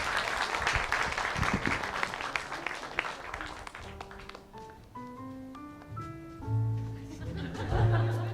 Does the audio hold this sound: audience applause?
yes